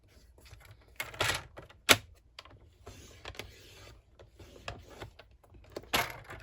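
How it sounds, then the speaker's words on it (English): A paper trimmer scoring a sheet of cardstock, giving sharp mechanical clicks and scraping strokes in irregular bursts, close and alone. "this paper trimmer does a really good job of scoring those"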